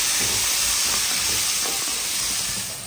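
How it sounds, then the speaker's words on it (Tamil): Tomatoes with a little salt and turmeric sautéing in a pan before crab goes in, a steady loud hiss and sizzle with faint stirring scrapes throughout, no talking. "லைட்டா உப்பு மஞ்சள் போட்டோம்னா தக்காளி நல்லா வதங்கிடும்."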